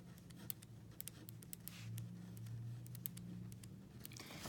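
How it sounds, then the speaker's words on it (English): Faint scratching and light taps of a pen writing out a math function by hand, quiet and intermittent over a low background hum. "So I'm just going to write down that function."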